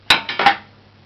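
A baked lemon sponge in its cake pan is flipped onto a cooling rack, giving three quick metallic clinks and clatters in under half a second, close and fairly loud, with no talk.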